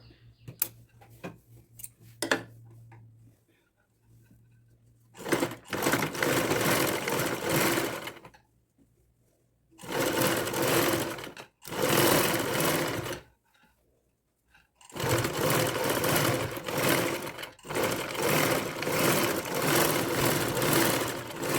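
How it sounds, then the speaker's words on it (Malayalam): A sewing machine stitches over a folded cross piece of fabric in four long, loud, rapid mechanical runs separated by short pauses, with faint handling sounds in the gaps and no speech. "ക്രോസ് പീസിന് മുകളിലൂടെ സ്റ്റിച്ച് ചെയ്ത് കൊടുക്കാം"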